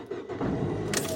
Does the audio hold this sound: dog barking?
no